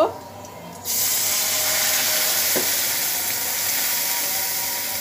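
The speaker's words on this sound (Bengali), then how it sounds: "পেঁয়াজ আমার ভাজা হয়ে গেছে, আমি এটাতে এখন পানি অ্যাড করব।" Onions and garlic frying in a pan burst into a loud, steady sizzle as water is added, a sharp onset after a quieter start that then holds a dense hiss for several seconds, with a brief faint clink midway.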